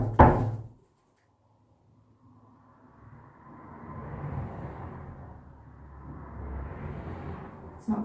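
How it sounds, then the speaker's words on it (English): A single loud knock hits a door in a reputedly haunted house, followed by near silence and a faint low rumble, with another soft thud at the very end. "maybe don't knock on the door"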